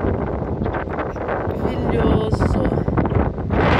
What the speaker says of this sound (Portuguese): De tão forte que tá o vento.